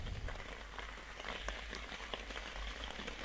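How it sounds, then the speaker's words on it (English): Steady rain patters at a lake in Brigueuil, France, a dense hiss of drops with faint scattered taps, continuous and moderately close throughout. "And it is raining."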